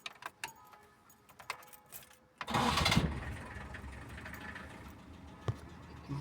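A Peugeot 404 cranks at the turn of the key, then catches and settles into a steady, fairly loud idle. Before it starts there are a few small clicks and key jangles.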